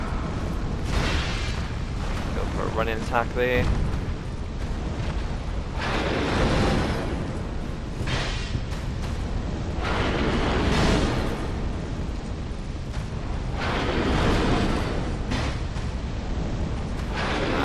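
Repeated heavy booming blasts and rumbling eruptions from a boss fight in the video game Dark Souls 2, several loud bursts spread across the stretch, with someone talking briefly between them.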